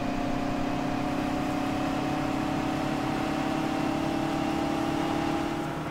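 A tractor engine in Farming Simulator 17 hums steadily at a constant pitch, a smooth mid-level drone with no revving or voices.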